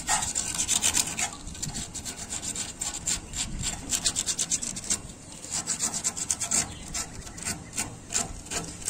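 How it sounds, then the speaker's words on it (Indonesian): Sandpaper rubbed by hand over a surface in quick back-and-forth strokes, a steady close rasping scrape that keeps up throughout with brief uneven pauses, no talking. "Sini mulai kita amplas dikit-dikit di sini"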